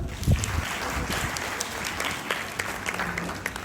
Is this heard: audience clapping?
yes